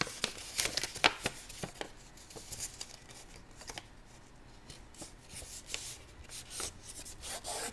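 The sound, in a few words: folding and creasing paper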